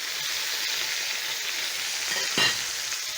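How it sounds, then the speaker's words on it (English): Pork chops sizzle steadily in a garlic skillet, a dense continuous frying hiss with one short louder flare near the end, close and with no voices. "I'm going to be cooking the pork chops for around 4 to 5 minutes"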